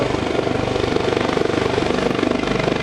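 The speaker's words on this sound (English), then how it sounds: "the helicopter stands off at a safe distance, then often will circle the stricken vessel" A US Coast Guard search and rescue helicopter hovers at an airshow over Greenwood Lake, its rotor thumping in a steady rapid pulse under a broad engine roar, loud and continuous.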